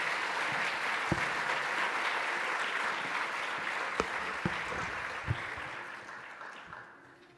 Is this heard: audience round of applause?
yes